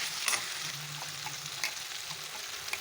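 Chicken and tomato fry cooking in a pan, a faint steady sizzle with occasional soft stirring scrapes and clicks.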